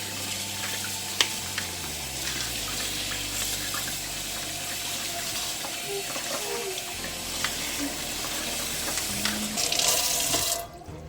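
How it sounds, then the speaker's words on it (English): Tap water runs steadily into a sink as lettuce is rinsed beneath it, a continuous close splashing hiss that briefly swells louder near the end before dropping away. "So the next thing is to rinse everything off"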